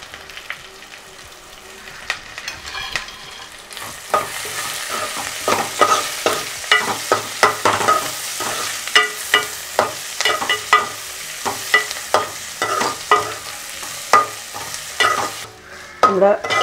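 Sliced onions, garlic and curry leaves sizzle steadily in hot oil for a Kerala beef and kappa curry, broken by repeated scraping strokes of a spoon stirring the pan in a loose rhythm, heard up close with no talking.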